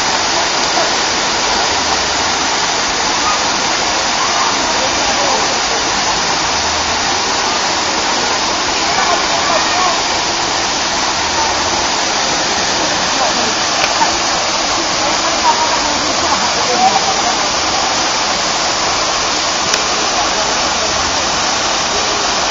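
Hinulugang Taktak Falls in Antipolo roars steadily, a dense broadband rush of falling water with foaming pools below, constant and loud throughout with no pauses.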